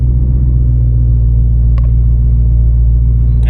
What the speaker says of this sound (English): So now the car can be put into gear without stalling.